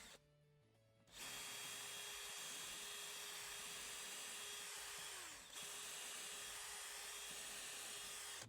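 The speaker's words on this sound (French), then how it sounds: "Je peux ensuite percer un peu plus profondément." A power drill pre-drills a wooden deck board on a timber terrace built on posts, starting abruptly after a second and holding a steady, loud whine that dips briefly in pitch midway before resuming, with no talking.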